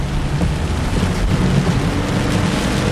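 Florida thunderstorm in July with steady heavy rain and a continuous low rumble of thunder, loud and close throughout, no voices.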